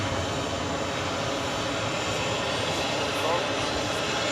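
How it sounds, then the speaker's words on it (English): An American Airlines Boeing 777-200ER takes off from JFK bound for Milan, its engines producing a steady, loud roar, with a person talking over it. "That's American 198 heading off to Milan. 777 200ER"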